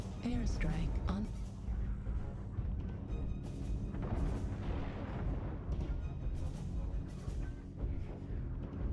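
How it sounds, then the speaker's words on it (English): Airstrike explosions in a MechWarrior online match, a string of booms and blasts rumbling over busy battle noise at moderate level, heard at a distance. "Airstrike on."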